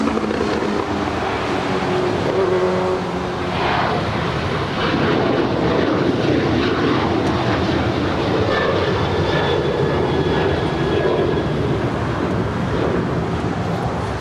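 A United Boeing 737-900ER departs LAX for Denver with a loud, sustained jet roar that holds steady and close throughout, a broad rumble topped by a rising engine whine.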